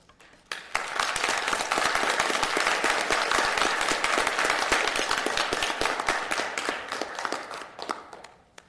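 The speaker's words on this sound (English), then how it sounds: "Can we refrain from clapping until we get through with everyone speaking to allow everyone their time?" At a city council regular meeting, an audience bursts into clapping after a brief quiet start, a loud sustained patter of many hands that holds steady and thins slightly near the end.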